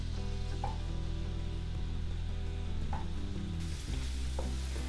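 Steady sizzling of ginger and green chilli frying in hot ghee, with a few faint clinks of a spoon stirring the pan.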